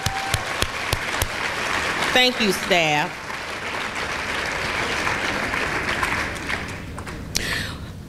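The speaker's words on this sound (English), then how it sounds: "Let's give them a great big round of applause." An audience at a youth ambassadors for excellence ceremony claps for teachers, assistant principals and principals, a sustained burst of applause from a crowded hall while someone speaks briefly over it.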